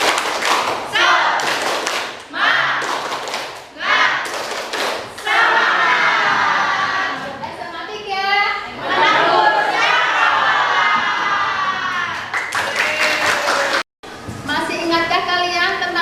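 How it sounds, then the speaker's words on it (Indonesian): A class of school students claps together in a quick rhythmic spirit-clapping routine, mixed with chanted shouts and voices, loud and close. "Kita mulai ya. Tepuk semangat."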